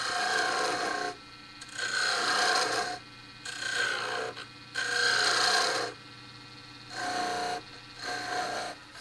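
Sandpaper rubs against a wooden gavel spinning on a wood lathe, a steady rasping hiss in four or five long passes of a second or two each, broken by short quieter gaps.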